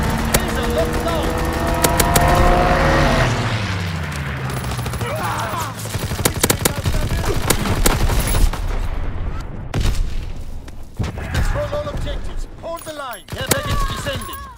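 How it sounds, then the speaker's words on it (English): Loud battle din in Call of Duty WWII on the Valkyrie map: a fighter plane strafes the target amid dense machine-gun bursts, fusillades and booms. A whistling dive sound comes first, then sustained heavy gunfire, with game voice callouts over it. "Fighter pilot inbound, strafing the target."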